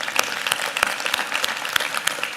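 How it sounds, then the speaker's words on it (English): Audience applause at a plenary session of a large investment conference, steady clapping from a big crowd throughout, fairly loud and continuous with no talk over it. "And I think that deserves another round of applause."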